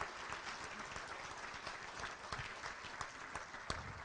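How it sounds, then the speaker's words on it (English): Gala audience at a charity fundraiser breaking into steady applause, a dense wash of many hands clapping at moderate level throughout, with no speech over it. "Let's show them a round of applause for that."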